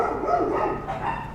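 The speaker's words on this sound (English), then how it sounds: "Barking dogs." Dogs bark in a golf course community in Mexico, their yips and bow-wows sounding fairly close and loud, with a brief whimpering edge.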